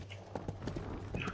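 Horse hooves clip-clopping in the video game RIFT, a quiet, steady run of soft hoof beats at a moderate pace with no talk over them.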